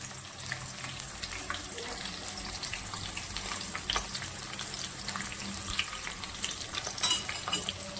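Onions and green chillies fry in a pan for chicken curry, a steady close sizzle running throughout with occasional stirring scrapes and brief clinks, no talking.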